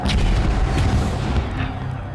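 Deep, booming cannon fire from a historical siege, heavy rumbling blasts rolling continuously and loud with a slight fade at the end.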